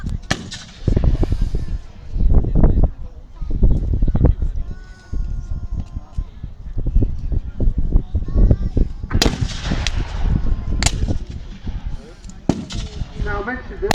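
Booming blasts from Civil War cannon and rifles at a reenactment battle, several loud reports standing out sharply over crowd noise, with people talking throughout.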